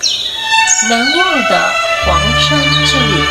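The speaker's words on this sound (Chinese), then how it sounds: "这个是鸟鸣的音效" Bird chirping sound effect added in the CapCut video editor, with short tweets and squawks running under a voice-over and background music.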